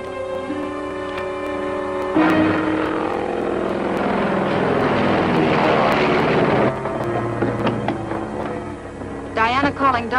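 A propeller airplane flies past in a 1946 film scene, its droning engine swelling loud with a sweeping pitch change, then fading as a voice speaks over radio-style chatter.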